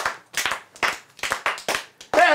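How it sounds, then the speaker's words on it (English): A handful of people clap in a steady rhythm on a children's educational show, about seven crisp, evenly spaced claps close to the mic, with a brief voice or sung note entering at the end. "All right, guys, start clapping."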